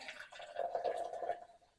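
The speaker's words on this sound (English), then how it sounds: "we will open this up and pour a bit into a glass" Mountain Dew Mango Rush soda pours into a glass with a soft, close liquid gurgle that swells for about a second and then trails off, with no talk.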